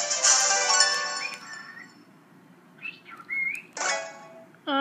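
A bird chirps indoors while a Pokemon X game plays, giving bright whistled calls and rising tweets in short bursts, fairly close, with quiet gaps between them.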